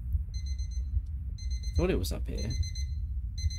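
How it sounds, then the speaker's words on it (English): An alarm clock ringing in the horror video game Obsideo, a steady rapid electronic beeping in repeated bursts over a low rumbling background, with someone briefly talking over it. "Rings alarm clock."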